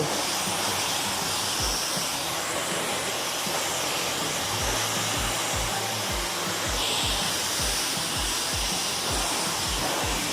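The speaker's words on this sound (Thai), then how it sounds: "ไม่ต้องทำอะไรเลยเป่าอย่างเดียวเนี่ยเป่าอย่างเดียวเลย" A hair dryer blows steadily and loudly at close range on a client's hair in a Rayong hair salon, a continuous rushing hiss that runs the whole time without talk.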